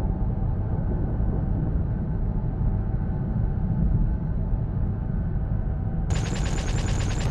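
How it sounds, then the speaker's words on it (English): A spaceship's turret weapon firing in the space game SpaceBourne, heard as a dense, steady rumbling barrage throughout, capped in the final second by a sudden rapid rattle of bright, sharp repeated shots, loud and with no voices. "That's the simple turret."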